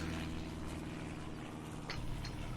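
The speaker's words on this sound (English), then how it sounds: "We'd be able to hear it if it wasn't for those damn aeroplanes" Propeller airplanes drone overhead in Farming Simulator 22, a steady broadband engine roar holding evenly throughout with no talking.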